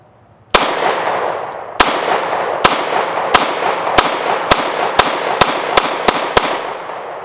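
Eleven sharp, loud shots from a Smith & Wesson SD40 pistol, fired close by, starting slowly and speeding into a rapid string, each crack trailing off into a short echo.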